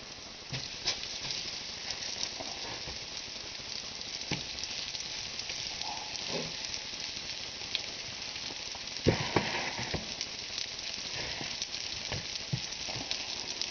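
Garlic sizzles in a pan while a quick pan pizza is being made, a steady close frying hiss with scattered pops and a few louder scrapes of stirring; no talking.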